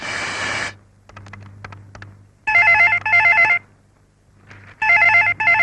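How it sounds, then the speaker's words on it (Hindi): A telephone rings in a home scene of a Chhattisgarhi film: loud electronic ring bursts come in three separate clusters, with quieter clicking and tapping in the pauses between them and no voices. "शर्मा जी जरा फोन देख ले"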